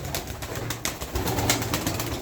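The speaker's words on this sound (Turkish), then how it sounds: "Şu, o, Miro'daki kanat sesine bakın." Wings of a pigeon at a bird sale flap in a run of quick soft bursts, close by, over a steady low background hum with a few faint coos.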